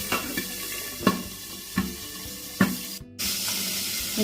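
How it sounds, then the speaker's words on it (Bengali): Pabda fish spatter in hot oil under a lid, giving a steady hiss with several sharp pops at irregular intervals and a brief drop in sound partway through. "পাবদা মাছ কিন্তু প্রচন্ড ফাটে বন্ধুরা তাই জন্য আমি ঢেকে দিলাম"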